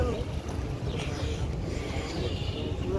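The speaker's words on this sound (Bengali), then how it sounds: "এই একটা নৌকা চলতেছে।" Boat moving on the sea at Cox's Bazar, its low rumbling motor and water noise heard from some distance under gusty wind, fairly faint and steady throughout.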